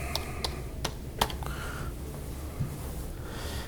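Typing on a computer keyboard, a handful of sharp, separate keystrokes clustered in the first second and a half, then a quieter stretch with one soft tap, faint against a low room hum.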